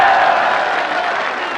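A large outdoor political rally crowd in Mianwali claps and cheers in a dense, sustained roar, loud and slightly fading, with crowd voices mixed into the applause.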